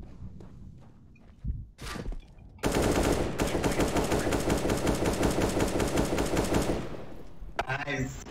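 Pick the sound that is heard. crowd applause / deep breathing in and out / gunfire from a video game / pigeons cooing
gunfire from a video game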